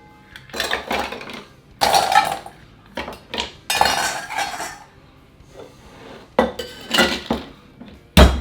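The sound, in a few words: shaking a cocktail in a shaker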